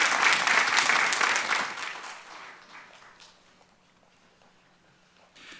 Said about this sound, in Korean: 영광의 박수를 우리 하나님께 올려드리겠습니다.